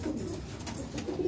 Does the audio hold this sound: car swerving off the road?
no